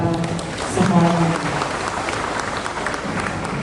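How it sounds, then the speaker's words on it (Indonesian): Steady applause from a large audience at a Waisak celebration in Surakarta, a dense sustained patter of many hands with a few voices and a brief vocal call rising above it. "Tepuk tangan untuk kita semuanya."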